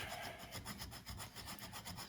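Abrasive grater-style lid scuffing a rubber patch area on a John Deere D105 mower, heard as fast, rhythmic back-and-forth rasping strokes, close and fairly quiet, with no voices.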